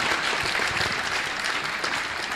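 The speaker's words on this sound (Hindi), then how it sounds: "तालियां जोरों से प्लीज" Loud, dense applause from a large crowd at a grand religious welcome ceremony, a continuous roar of clapping for the whole short stretch with no voices on top.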